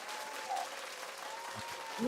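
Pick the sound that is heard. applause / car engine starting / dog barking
applause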